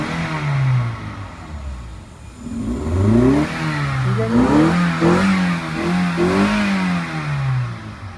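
A 2009 Toyota Corolla engine with a replaced engine and repaired accelerator revs up repeatedly, its pitch rising and falling in several close, loud bursts over a steady idle.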